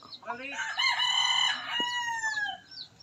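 Chickens cluck and a rooster crows nearby, the crow stretched and loud over soft clucking, with a few smaller calls trailing off at the end.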